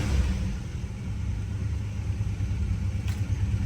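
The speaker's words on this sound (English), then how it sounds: "there's your warm-up idle" A 1965 Plymouth Barracuda engine idles through its warm-up, a steady loud low rumble with a slightly uneven pulse, heard close and without talk.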